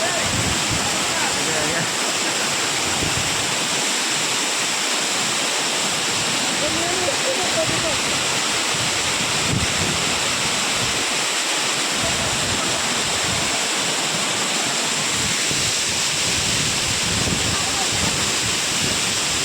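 Vyaghreshwar waterfall at Manche, falling like mist, gives a steady, dense rushing roar from nearby, unbroken throughout, with occasional faint voices under the water noise.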